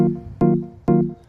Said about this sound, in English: if you add a note up here, like this, it's gonna sound like this